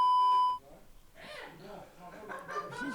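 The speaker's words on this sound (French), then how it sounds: "On va le biper, inquiète-toi pas." A sustained electronic censor beep sounds loud and steady for about half a second, then cuts off as several people talk casually in a podcast setting.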